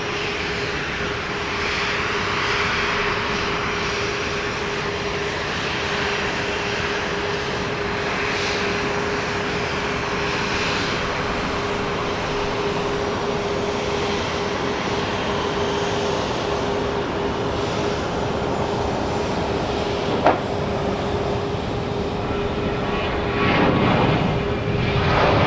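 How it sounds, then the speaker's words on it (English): A Boeing 737-800 rolls along a runway at Dallas Love Field at night, its engines giving a steady, continuous roar with a whining tone that holds for the whole stretch and swells slightly at the end. "So here comes flight 4698, 737, 800 on runway DFW at Dallas Love Field."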